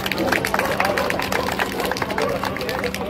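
Applause and clapping from a crowd at a Ramlila rehearsal, with dense, steady claps throughout and a babble of voices underneath.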